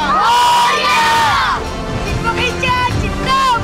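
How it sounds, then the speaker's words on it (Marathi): A crowd shouts and chants together in loud, rhythmic cries of praise to Lord Ganesha in Mumbai, with voices rising and falling close by. "त्यांनी पुन्हा एकदा बापांचा जयघोष केला"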